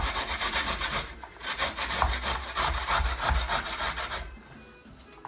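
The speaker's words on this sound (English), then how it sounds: "I'm using my grater and my potatoes, clean potatoes. I'm going to leave the skin on here." Clean, skin-on small potatoes rubbed against a grater, a rapid rhythmic rasping scrape that is loud and close, running continuously before easing off in the last second.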